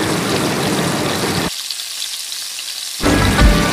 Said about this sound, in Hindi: ये अंडा जब तवे पे जाता है तो उसकी फ्राई की आवाज़ आपकी भूख को और बढ़ा देती है